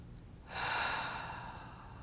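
A slow, deep breath, a long airy exhale that swells in after a quiet pause and then gently fades, close and clear with no talk during the guided relaxation exercise.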